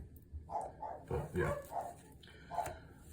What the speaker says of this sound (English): these animals won't stop making noise now.